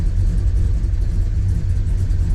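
A 1965 Plymouth Satellite's engine idles off the throttle, a loud, close, steady low rumble with a slight irregular lope throughout and no talking.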